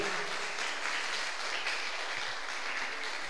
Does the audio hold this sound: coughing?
no